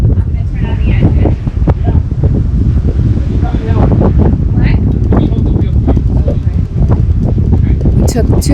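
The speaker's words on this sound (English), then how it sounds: "The wind was howling and the rain we had seen at sunset had arrived." Strong wind howls over a sailboat on an open-ocean passage from the Marquesas toward the Tuamotus, with near-gale gusts around 27 knots and rain. The loud, continuous buffeting roars at the microphone throughout, with no break.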